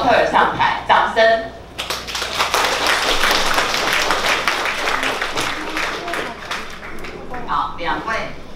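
An audience claps as models come on stage at a hair colour launch event, a loud rush of applause of dense rapid claps that fades out, with a voice talking before and after it.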